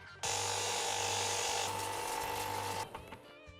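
A sanding machine bevels the end of a wooden ramrod, giving a steady, close whirring grind for about two and a half seconds before it cuts off and winds down with a few small knocks.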